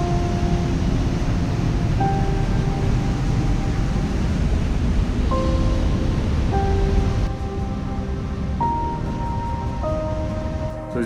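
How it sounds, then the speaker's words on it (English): The Rupin River rushes through a mountain valley, where it forms an upper and a lower waterfall. Its loud, steady broadband roar fills the whole stretch, with faint tonal sounds layered on top. "So this river in the valley is making a upper waterfall and lower waterfall, and this is basically Rupin River."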